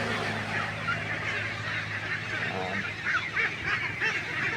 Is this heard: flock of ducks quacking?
yes